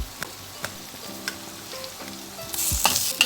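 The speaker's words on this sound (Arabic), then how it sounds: "هشوح فيها العدس دلوقتي اهو" Washed lentils frying in a pot with finely chopped onion for Egyptian koshari, a close, steady sizzle with regular spoon taps against the pot, swelling into a louder, brighter hiss near the end.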